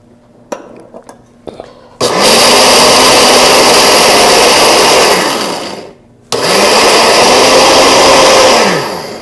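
A kitchen blender grinds dry-toasted peanuts in two loud, steady bursts of whirring motor noise, with a short pause between them, after a few faint clicks and knocks.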